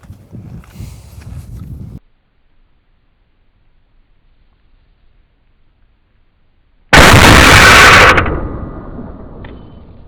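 A CMMG Banshee 5.7 fires a single loud, sharp shot through doors after a stretch of near silence. The blast is close and reverberates briefly before fading, with some faint shuffling noise at the start.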